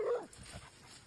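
A dog gives a short, faint yip and whimper at the start, then quieter low sounds trail off.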